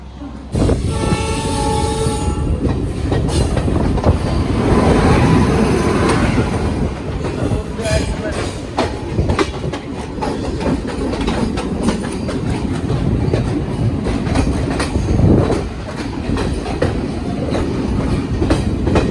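A Delhi–Fazilka Intercity Express pulls into platform 1 at Ambala City, Haryana, with a loud horn blast at the start, then steady wheel clatter and rumbling carriages close by throughout.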